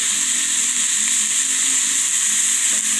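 Olive oil and vegetables sizzle steadily in a pot for veggie salsa soup, a continuous bright frying hiss with faint stirring scrapes and no talk.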